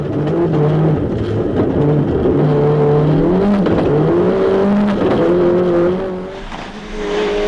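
Rally cars at Lurgan Park, 2002, racing hard past the camera, loud revving engines shifting pitch as they pass one after another, with tire noise and a brief dip near the end.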